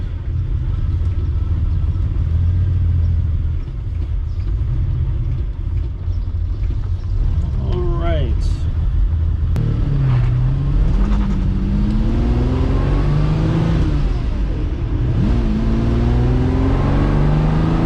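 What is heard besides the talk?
Ferrari engine running after new fuel pump fitted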